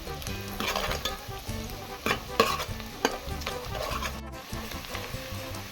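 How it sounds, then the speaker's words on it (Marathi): Finely chopped onions fry in a pan for Goan pork sorpatel while being stirred, giving a continuous close sizzle broken by irregular scraping strokes, with no talking. "आता मगे पिया बरो भाजलो ब्रावन जाला"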